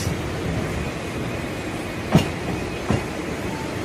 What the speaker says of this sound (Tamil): சார்மினார் எக்ஸ்பிரஸ் சென்னை பீச்சிலேருந்து கிளம்பக்கூடிய ஒரு ட்ரெயின்.